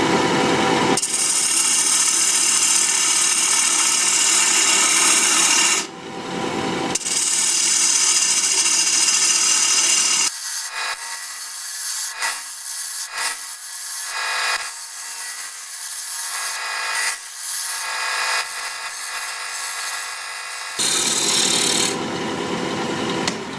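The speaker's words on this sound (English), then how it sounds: "We're going to be turning at 1100 RPM, half-inch bowl gouge" A walnut bowl spins on a wood lathe at 1100 RPM while a half-inch bowl gouge cuts it, giving a steady loud rasping hiss that breaks briefly, turns lighter and intermittent midway, then returns to full strength. No talking.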